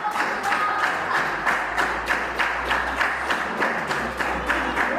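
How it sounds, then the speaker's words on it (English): Wrestling arena crowd clapping in a steady rhythmic beat, loud and close, with a low rumble of cheering beneath the claps throughout. "The crowd behind George Hunter tonight"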